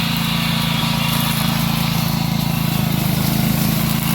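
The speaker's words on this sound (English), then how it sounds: "DR mower. DR super weed eater." A DR super weed eater, a heavy trimmer spinning thick line, runs steadily at full throttle with a loud, constant buzzing drone and no change in pitch throughout, close up and alone.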